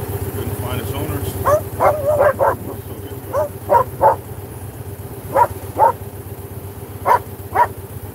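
A dog barks in short paired and clustered yips and whimpers, fairly close, over a steady low engine-like hum, with someone talking intermittently.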